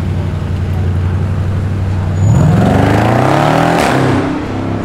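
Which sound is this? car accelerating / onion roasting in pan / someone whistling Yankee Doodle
car accelerating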